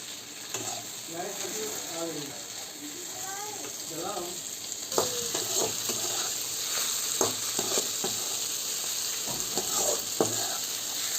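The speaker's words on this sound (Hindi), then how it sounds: "इसे भी फ्राई कर रही हूँ, ताकि टमाटर भी और प्याज भी दोनों एक साथ अच्छी तरह से गल जाए और फ्राई भी हो जाए" Tomato and onion frying together in a pan over high heat, a steady sizzle with occasional stirring scrapes, while someone talks over it for the first few seconds.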